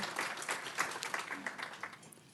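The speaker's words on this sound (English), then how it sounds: "Shall we give him a round of applause?" A small audience at a teacher centre manager workshop claps politely for a presenter, a scattered, fairly soft patter of hands lasting a couple of seconds, with a murmur of voices underneath.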